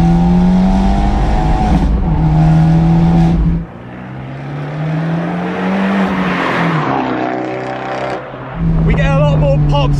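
An Abarth 124 fitted with a sport catalytic converter drives hard, its exhaust rising to a high-RPM scream through several gear pulls with short dips between shifts, loud and close, with a voice talking over parts of it.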